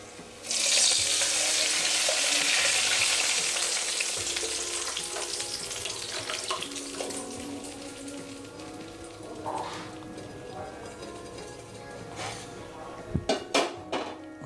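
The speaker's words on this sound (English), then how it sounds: "So try to put the stove off and add the pulusu very slowly." Raw rasam (pachi pulusu), a spicy South Indian broth, poured slowly into a hot pot and stirred: a loud hissing sizzle bursts at the start and fades, followed by softer stirring and a few sharp clinks of metal utensils near the end, no talk.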